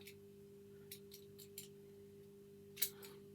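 Small snips of a cutter biting through electrical cable wire while repairing a plug: several faint, separate clicks spaced across a few seconds, then one sharper, louder snip near the end, all over a steady low mains hum.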